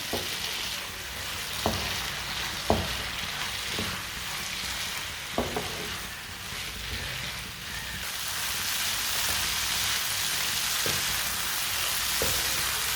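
Noodle sauce with red chili cooks in a pan over medium heat, giving a steady close sizzle with occasional sharp clicks of a utensil against the pan, and the frying hiss grows louder toward the end.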